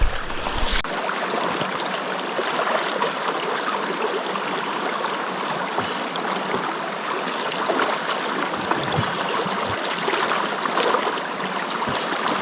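A river rushes in a Tasmanian gorge with a steady, broadband flow that stays close and continuous. No voices are heard.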